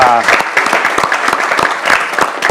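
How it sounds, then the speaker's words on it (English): A conference group at a Lisbon NFT event applauds itself, bursts of clapping under and between a talking voice, fairly close and loud. "I think we should give ourselves a round of applause for being a great group of people."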